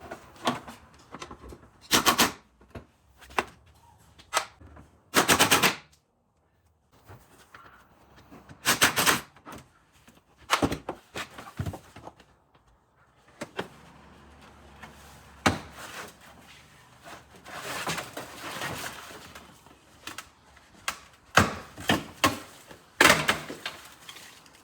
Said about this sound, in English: Next thing is pull the driver's seat out.